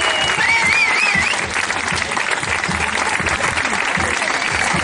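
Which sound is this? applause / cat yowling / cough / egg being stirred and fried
applause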